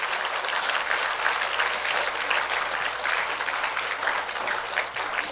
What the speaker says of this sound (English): let's all give one big round of applause to the parents